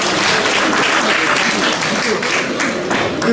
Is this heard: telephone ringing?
no